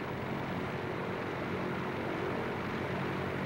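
Winnie Mae aircraft with a supercharged 500 horsepower Pratt & Whitney Wasp engine, a steady broadband drone of engine and propeller throughout, loud and continuous with no voices.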